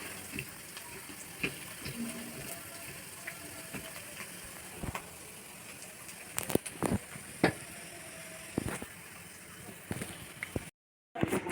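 Tamarind tempering for pulihora sizzles in a pan with a steady crackling hiss, broken by sharp pops and clicks throughout, then a brief dropout near the end.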